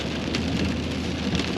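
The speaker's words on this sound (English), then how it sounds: "It's supposed to rain like a ½ inch today." Heavy rain on the Oregon coast pours steadily and close, a dense, even hiss of drops on surfaces with no breaks and no voices.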